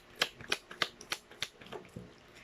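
Tarot cards being shuffled by hand during a card reading, a quick series of crisp riffling flicks and slaps in an uneven rhythm, close and fairly quiet with no talking.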